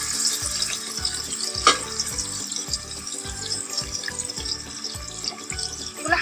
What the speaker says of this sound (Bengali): এখন আমি এই তেলের মধ্যে চিকেনটা ফ্রাই করে নেব